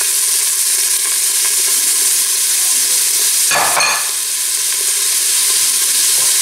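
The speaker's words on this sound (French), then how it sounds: "Alors je vais mettre des oignons." Onions fry loudly in a pan, a dense unbroken sizzle close by, with one brief stir or shuffle partway through and no voices.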